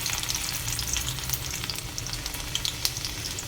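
Split chickpeas sizzle in hot oil, a steady crackling fry with small pops scattered throughout, close and moderately loud.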